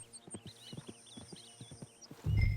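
A horse in Red Dead Redemption 2 walking with a steady clip-clop of hooves and a snort at the end, rounded out by light outdoor ambience and chirping birds.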